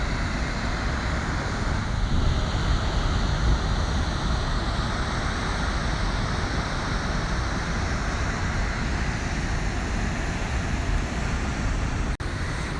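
Steady broadband roar of the waterfall on the Genesee River in a city canyon, a constant loud wash with no breaks, heard from a distance.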